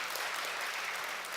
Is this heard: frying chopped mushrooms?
no